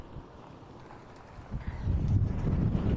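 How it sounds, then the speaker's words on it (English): Gusty wind buffets the microphone outdoors on the open Nullarbor plain, a low rumbling roar that swells and grows louder toward the end, with no voices. "Windy."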